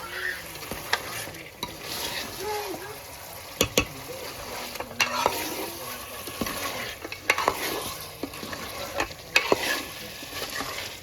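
Mutton curry is stirred in a cooking pot with steady scraping and clinking of a spoon against metal, over a continuous sizzle of frying, close and moderately loud.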